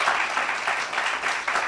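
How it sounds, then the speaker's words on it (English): Audience applause after a book talk, a dense, steady round of clapping from a room full of people, sustained throughout with slight swells and no voices over it. "give Darryl a lovely round of applause"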